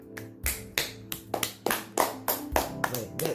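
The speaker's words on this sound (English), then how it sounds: "So, clap." A single person claps about ten times in an uneven rhythm, each sharp clap distinct and close, over a soft steady tonal background.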